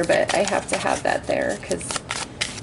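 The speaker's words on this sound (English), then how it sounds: "Shuffling the cards." Tarot cards are shuffled by hand during a love reading, giving quick riffling bursts under a woman's close, continuous talking.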